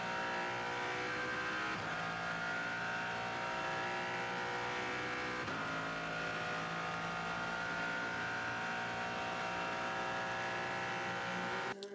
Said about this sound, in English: On board with the Aston Martin 95 down at Mulsanne corner.